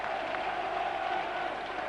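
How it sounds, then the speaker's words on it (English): A football crowd at Burnley v Reading, a 2000 Second Division match, roars after Burnley's third goal: a steady, moderately distant wash of cheering and applause that fills the whole short stretch. "the crowd have gone absolutely bananas here"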